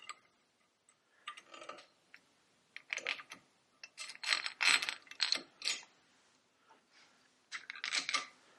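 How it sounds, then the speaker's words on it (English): Ratcheting clicks from a race tool drawing a bearing race into a motorcycle, a 1974 Harley-Davidson XLCH, come in short irregular bursts of metallic ticking, close and fairly quiet, separated by brief pauses. "We're just going to draw it in, and the bottom race removal tool will stop it when it gets flush to the edge"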